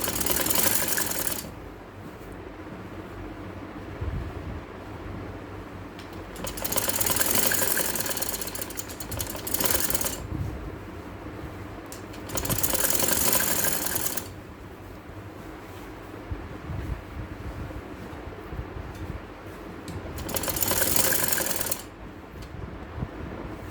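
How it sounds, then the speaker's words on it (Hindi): Sewing machine stitching lace onto a kameez, running in four separate bursts of a few seconds each with quiet pauses between, fairly close and steady while it runs. "और ये यहाँ से आप सिलाई करें, लूप को साइड करते जाएं और सिलाई करते जाएं।"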